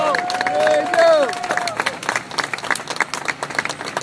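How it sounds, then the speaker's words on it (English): Crowd applause for an assemblyman at the dedication of a new bridge, with sustained clapping from a large outdoor audience and a sustained tonal sound with rising and falling pitch over the opening moments. "He's a hero of mine, Joe Lentol. Let's give him a round of applause."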